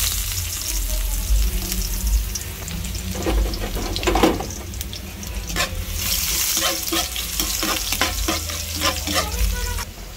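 Food sizzles steadily in bacon oil in a pan, with scraping stirs and clinks breaking through the frying hiss at irregular intervals, close and fairly loud.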